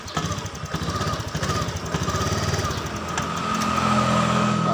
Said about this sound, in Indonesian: tapi tidak normal ya teman-teman, tidak bisa stasioner.